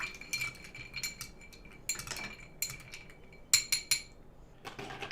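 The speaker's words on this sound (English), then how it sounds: "Give it a stir." A spoon stirs a cocktail in a glass, giving light metallic clinks and tinkles against the glass in short scattered bursts, close by and alone, with a soft background hum.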